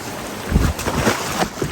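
River water rushes and churns at a crossing, a broad close roar mixed with wind buffeting the microphone and no voices.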